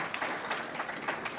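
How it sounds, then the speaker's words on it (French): Applause from an audience at a sports hall of fame gala evening in Sorel-Tracy, a steady wash of many hands clapping at moderate distance, fairly soft and even throughout. "une bonne main d'applaudissements pour ce que Gilles a fait ce soir"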